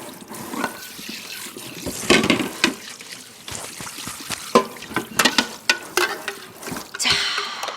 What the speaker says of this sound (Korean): 설거지 바로바로 해주시고요.